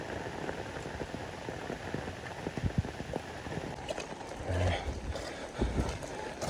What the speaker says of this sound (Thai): โอ้ยฝนเลย